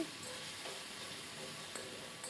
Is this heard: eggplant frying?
yes